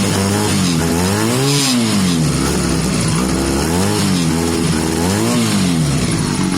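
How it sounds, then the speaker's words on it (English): A Honda CB250 bobber motorcycle with reworked carb and exhaust runs loud and close, its engine revving up and down in repeated smooth swells over a steady exhaust rumble. "The exhaust sounds so much better now."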